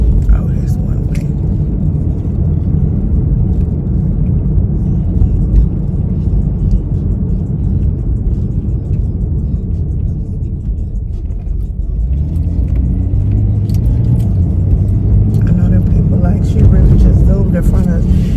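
Cold car driving on the road, a steady low rumble of engine and tires that thickens into a heavier drone partway through, with people talking inside the car over it.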